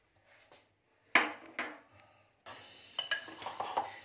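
Metal spoon clinking and scraping in a bowl while mixing a boiled sweet corn salad with chopped coriander leaves, in a few short close bursts after a quiet start, busier and louder toward the end.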